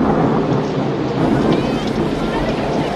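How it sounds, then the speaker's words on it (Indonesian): Stormy film scene with heavy rain and strong wind roaring as a dense, constant wash of noise, with a low rumble that fits distant thunder, while a narrator talks over it. "Di saat hujan semakin deras dan angin pun semakin kencang"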